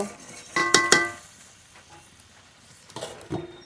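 A metal lid clanks onto a pot of desi duck meat cooking with spices, two bright ringing knocks followed by quieter clatter a couple of seconds later.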